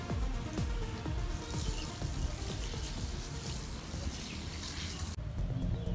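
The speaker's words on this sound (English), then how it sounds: "you must prepare the fruit and then wash until clean" Water runs steadily from a tap over fruit being washed for fruit soup, a continuous splashing rush that stays close and loud, with a brief break near the end before it resumes.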